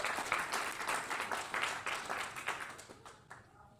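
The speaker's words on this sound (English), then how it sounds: "So y'all give him a clap." Audience clapping in a hall, a lively burst of many hands with audible rhythmic pulses that gradually thins and fades out near the end.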